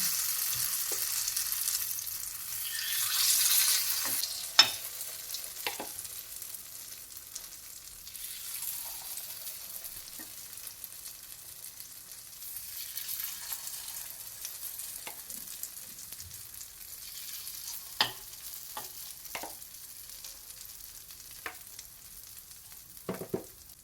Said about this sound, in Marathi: एक एक चमचा आप्पे पात्रामध्ये घालून आप्पे पात्र भरून घेऊया